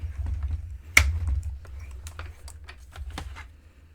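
A Sizzix Big Shot die-cutting machine is cranked through layered cardstock, giving a run of quick, close clicks and ticks with one sharp snap early on, all over a low rumble.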